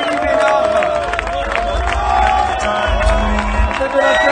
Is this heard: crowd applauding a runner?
yes